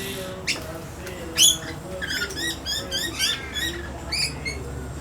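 A blue-faced honeyeater (Entomyzon cyanotis), an older bird with a blue face patch, calls in a garden with rapid bursts of harsh, clipped chirps in quick runs, fairly close and clear over a low background hum.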